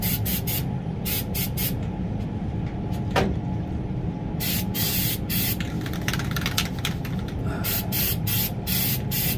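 Nu-Calgon Pan-S aerosol is sprayed onto a rusted-through evaporator drain pan in a produce case, with repeated short hissing bursts close by over a steady background hum.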